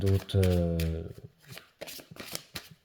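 A deck of oracle cards is shuffled by hand in quick, papery riffles and flutters, close by, after a brief spoken phrase at the start.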